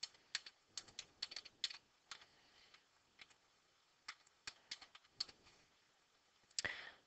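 Quiet, close typing on a computer keyboard, irregular bursts of light key clicks with short pauses, ending in a slightly louder clatter of keys.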